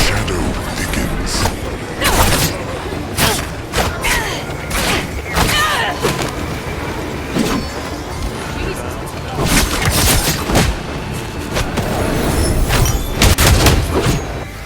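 Thrown bombs going off in a video game, a rapid series of booming explosions and crashing impacts in irregular bursts, loud and close, with a player talking over them.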